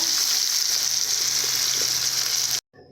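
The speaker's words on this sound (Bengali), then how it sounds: "এরপর কিছুক্ষণের জন্য আমি ভেজে নেব উচ্ছেগুলো ভেজে নিয়েছি" Bitter gourd slices frying in a pan give a steady, loud sizzle that runs without a break for about two and a half seconds and then cuts off abruptly into near silence.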